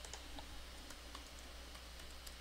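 Someone types a terminal command on a Mac computer keyboard: a few soft, scattered key taps, faint against a low steady background hum.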